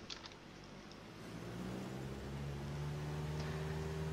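A single-engine aircraft in Microsoft Flight Simulator X drones steadily with a low, even hum as the throttle is reduced, the tone settling into a sustained engine note with no voices over it.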